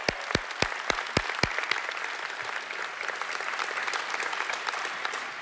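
Crowd clapping at a celebration-of-life memorial service for a Jacksonville mayor; a few loud, distinct claps ring out first, then dense sustained applause fills the room at a steady level.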